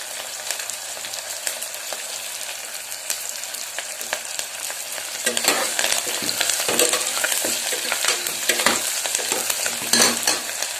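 Sharp crackling and spattering of curry leaves and large chilies frying in hot oil for tomato rice, growing louder and busier partway through, with bursts of popping.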